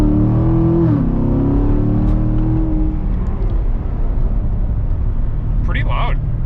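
A Chevy Corvette C7 Grand Sport Collectors Edition, a track-focused car, accelerating hard with a loud engine note that climbs in pitch and then settles into a close, roaring drone.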